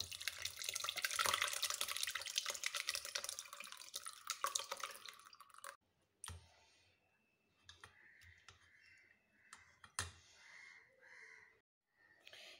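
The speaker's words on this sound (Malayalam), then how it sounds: "നമുക്കൊരു അരിപ്പയിലോട്ട് അരിച്ചൊഴിക്കാം." Fresh grape juice pours steadily into a strainer with a loud, close splashing rush for several seconds, then slows to scattered drips and small trickles.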